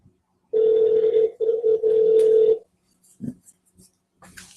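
An outgoing telephone call rings on the line: a steady electronic tone sounds in long stretches with brief breaks, then falls silent before a soft thump and faint rustle.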